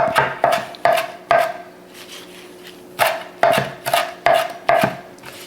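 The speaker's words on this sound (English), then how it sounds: "So we're just gonna chop up some basil." Basil chopped with a knife on a cutting board, a run of crisp, evenly spaced knife strikes that pause briefly before the chopping resumes.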